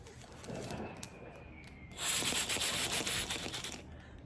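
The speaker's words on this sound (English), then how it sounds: "you should hear that flap opening and feel air come out through here" Air blown through the valve of a 1994 Chevrolet Silverado PCV makes a soft breathy rush, growing louder and rougher about halfway through as the flap opens and air passes freely.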